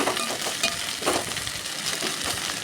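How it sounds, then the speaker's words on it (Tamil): Curry leaves frying on a low flame in a pan, a continuous crackling sizzle with light stirring scrapes, close and fairly loud throughout. "கருவேப்பிலையும் நல்லா வறுப்பெடுத்துக்கணும் அடுப்பை சிம்மில் வச்சு வறுப்போம்"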